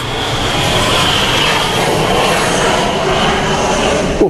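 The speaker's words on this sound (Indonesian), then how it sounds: "Private jet." A private jet roars overhead in a steady, loud broadband rush lasting several seconds, heard outdoors with no talk over it.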